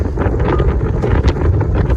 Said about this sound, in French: Il y a des rafales, hein. Ça souffle bien.